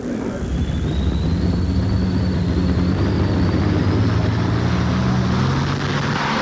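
A pulling tractor engine roars loud and sustained as it launches down the track at a 1988 tractor and truck pulling event in Kansas City, with a rising high whine above the deep rumble.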